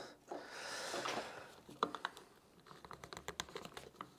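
An adjustable band clamp is loosened on a woodworking setup: a brief ratcheting rasp, then a sharp click and a string of quick, close, light clicks and ticks, unaccompanied by talk.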